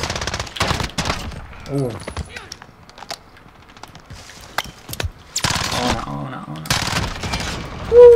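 Gunfire in a Call of Duty Modern Warfare match landing a headshot, sharp bursts of shots with game effects between them, while a player reacts briefly.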